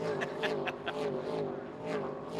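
Trans Am muscle cars race at Bathurst, their V8 engines roaring and revving past at a distance with a rising and falling drone, under faint commentary.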